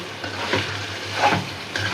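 Loitta shutki (dried Bombay duck fish) frying with potato and garlic in a pan, a soft steady sizzle with a few scraping stirs, fairly close and without talk.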